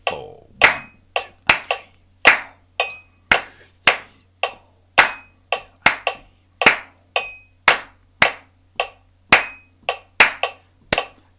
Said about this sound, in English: there's a little clapping rhythm to get us going and start to physically warm us up